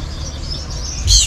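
Gouldian finches chirp in a short, bright burst of tweets near the end, close by, over a soft low background hum.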